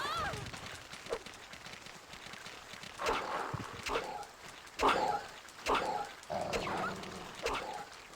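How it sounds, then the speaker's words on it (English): Dogs in the video game Resident Evil 3: Nemesis bark and whimper in short repeated bursts at moderate distance, mixed with game sound while someone talks over them. "I think I hear dogs."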